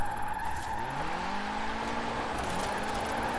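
Tires skid and squeal on a car in the Forza Horizon 4 racing game as the handbrake is pulled, a steady engine tone running under the continuous scrubbing hiss.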